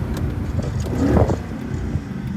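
A tuned Mercedes C63 AMG engine downshifting, heard from inside the car as a low steady rumble with a brief rising blip of revs midway.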